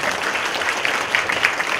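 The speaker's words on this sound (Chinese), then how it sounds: "大家掌声鼓励一下。" An indoor audience applauds steadily, a dense, even patter of many hands clapping throughout, moderately loud with no pauses.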